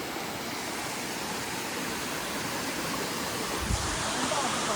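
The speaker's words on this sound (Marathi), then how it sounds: "इथे व्ह्यू बघा किती मस्त आहे बघा समोर वॉटरफॉल" A monsoon waterfall near the Kondhana Caves roars as a broad, steady rush of falling water, constant and moderately distant, with a brief low thump near the end.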